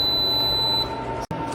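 A pellet stove being switched off gives a steady high electronic beep that runs for under a second, then a brief dropout, over a constant mechanical hum.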